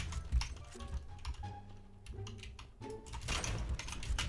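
Chat message tapped out on a computer keyboard during a Kar98 sniping game, a quick run of close keystrokes with bursts of clicks and brief pauses over faint in-game tones.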